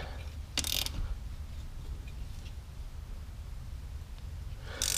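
Tightening the fitting on a stainless braided brake line on a Miata with a wrench gives two short bursts of ratcheting clicks, close and distinct, separated by a quiet low hum.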